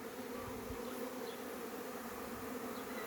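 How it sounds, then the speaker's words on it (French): A large swarm of honeybees buzzes in a dense, continuous drone that stays steady and fairly faint, with no other sounds and no voices. "vu la taille de l'essaim, je pense que c'est un essaim primaire"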